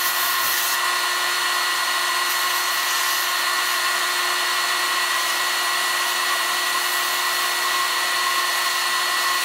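Rough grinding stone wheel spinning steadily with a constant, loud, close whirring hum and slight vibration, running alone with no talk for the whole stretch.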